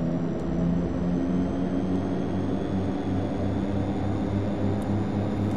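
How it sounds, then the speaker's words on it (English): Simulated aircraft engines in Microsoft Flight Simulator X spool up on an Air Moorea flight, giving a steady droning hum with tonal whine layered over it. The sound is continuous and fairly loud, with no speech. "let's go ahead and spool them up. Let them stabilize, and then we'll add our power in."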